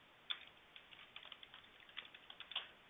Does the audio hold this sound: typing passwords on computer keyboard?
yes